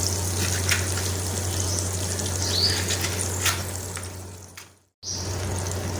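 Water pours into a pan of spiced minced meat frying with crushed chillies, red chilli, coriander, black pepper and salt, giving a close, steady gush and sizzle that cuts off abruptly before resuming.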